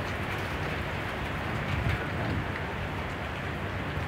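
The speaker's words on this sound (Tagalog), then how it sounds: "Nakita naman yung ulan, oh." Steady rain pours outdoors in Qatar during a stormy spring afternoon, with strong wind and cars parked nearby, a continuous dense hiss with no pauses and no talking.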